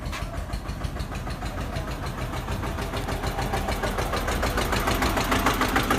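A 3-cylinder tractor engine idles at a tractor market in Fatehabad, giving a steady, rapid chugging throb that stays close and grows slightly louder, with no talking.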